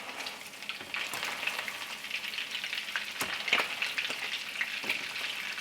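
Salmon croquettes fry in hot grease with a continuous soft sizzle, sprinkled with small pops and crackles, steady and fairly quiet throughout with no talking.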